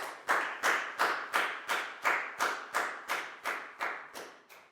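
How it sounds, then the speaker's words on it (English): Steady, evenly spaced hand claps, about a dozen in a row at a brisk even rhythm, close and fairly quiet, with no voices, closing a Year 4 English lesson. "Big round of applause for yourselves."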